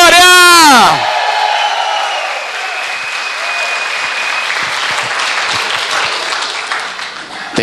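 A church congregation claps hard and shouts in victory for the King of Kings, a dense loud wash of applause with whoops and yells, opening on a sustained cry over the clapping.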